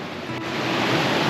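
Water rushing fast through a sluice swollen by heavy rain: a steady, loud, broadband roar of churning water, continuous and close, with no voices over it.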